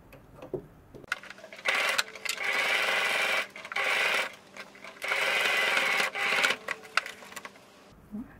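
A domestic sewing machine with a standard presser foot stitches fabric half a centimetre from the edge, running in several close, loud bursts of rapid whirring separated by short pauses and small clicks.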